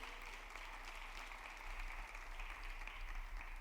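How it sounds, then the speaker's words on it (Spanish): A church congregation claps together during a sermon, a steady and faint wash of applause that carries on without a break. "Lo aplaudimos, está todo para la gloria de su nombre."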